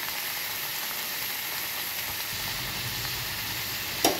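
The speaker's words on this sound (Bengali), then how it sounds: "কষাতে কষাতে যখন তেল ছেড়ে যাবে তখন মশলা কষানো হয়ে যাবে" Spice paste frying in oil for a pomfret curry, a continuous close sizzle and hiss with no talk, ending in one brief sharp clatter.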